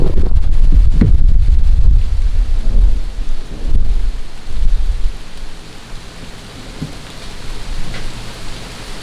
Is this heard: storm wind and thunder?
yes